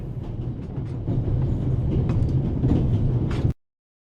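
A train runs steadily along rails in The Raven, a dense low rumble with faint clickety-clack, loud and constant until it cuts off abruptly near the end.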